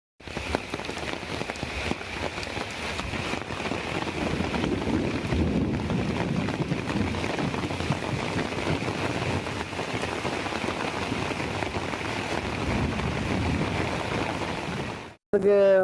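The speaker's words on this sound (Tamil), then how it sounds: "இதேபோல் மயிலாடுதுறை மாவட்டத்தில் பல்வேறு இடங்களில் கனமழை பெய்தது." Heavy monsoon rain pours steadily in Mayiladuthurai district, Tamil Nadu, a dense continuous hiss of drops drumming on surfaces for the full stretch, ending abruptly.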